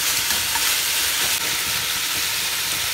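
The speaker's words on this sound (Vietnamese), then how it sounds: "Các bạn xào thịt bò, các bạn để lửa to" Beef stir-fried over high heat for a Vietnamese beef and pennywort salad sizzles loudly and steadily, a dense, continuous hiss with small crackles throughout and no voices.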